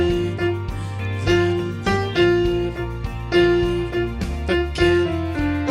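Piano plays a Trolls song at full speed, a steady rhythmic melody over repeating bass chords, clear and close with no talking.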